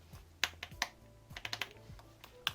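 Typing on a Logitech Folio Touch keyboard case for iPad, with 1 mm key travel: a handful of crisp, separate key clicks in an uneven rhythm, close and moderately loud, with no voices.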